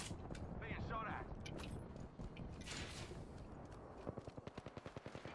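Incoming automatic gunfire during a ranked shooter video game match, with a light machine gun in play: dense, loud firefight noise that turns into quick, evenly spaced shots near the end.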